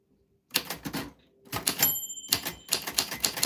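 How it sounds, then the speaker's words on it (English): A mechanical typewriter clatters in rapid bursts of keystrokes, with a brief pause between runs and a clear bell ding ringing partway through, loud and close. "it's right when the typewriter dinged"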